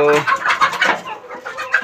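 Several chickens cluck and squawk in quick, overlapping bursts, close by and fairly loud, with no talking.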